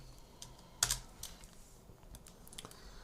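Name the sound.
typing on a computer keyboard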